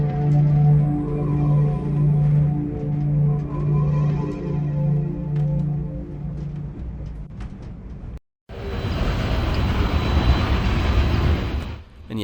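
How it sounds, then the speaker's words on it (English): Steady rolling rumble of a moving train inside the video game The Last Express, with rhythmic wheel-and-rail tones, broken by a brief silent gap before a louder, noisier stretch of travel resumes. "The train is moving."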